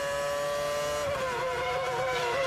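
A Formula 1 car in 2007 Hungarian Grand Prix qualifying screams along at high revs, its piercing tonal engine note dipping and rising as it brakes and shifts into a corner, loud and close.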